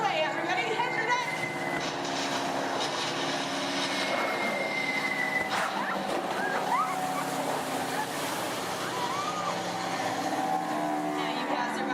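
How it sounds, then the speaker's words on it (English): Theme park show effect of enemy bomber planes approaching overhead: a loud, continuous roar of aircraft engines that fills the whole stretch, mixed with rumbling and water-like wash. "You hear more enemy planes approaching."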